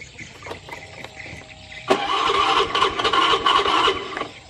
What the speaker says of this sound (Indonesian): motornya susah hidup, di starter sampai soak